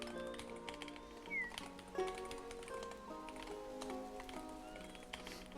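A cat in the Hytale video game gives a faint short meow amid quiet game ambience with soft ticking and tapping sounds and a gentle background melody.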